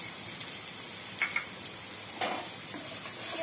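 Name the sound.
stir-frying papaya with turmeric and salt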